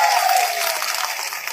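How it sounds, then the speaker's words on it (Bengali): Brief burst of loud crowd applause for the officer in charge of Hasnabad police station, dense clapping that stays close and sustained for the whole moment. "হাসনাবাদ থানার জন্য ভারপ্রাপ্ত অফিসারের জন্য একটা জোরদার হাততালি হোক।"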